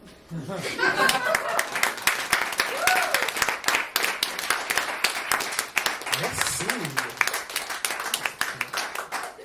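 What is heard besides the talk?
audience applauding a performer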